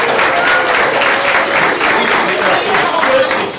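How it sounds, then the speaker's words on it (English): Audience applause in a meeting space, a dense steady wash of clapping lasting the whole few seconds, fairly loud and close, with voices mixed in. "give them a nice round of applause"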